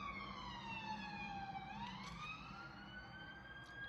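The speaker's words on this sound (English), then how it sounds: "You might hear some sirens and some cars. There's a main road outside." Sirens wail from a main road outside, a multi-toned emergency siren sliding down then rising again at moderate distance, steady over a constant hum of passing car traffic, with no talking.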